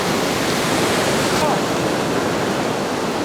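Surf breaks and washes onto an Outer Banks beach in North Carolina during surf fishing for red drum, a loud, continuous roaring hiss close by, with no speech.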